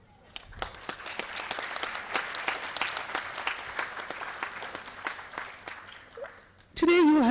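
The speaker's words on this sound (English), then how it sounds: "Please give yourself a round of applause." Audience applause at a school council conference, a steady burst of clapping lasting several seconds at moderate loudness before fading, followed by a brief voice at the end.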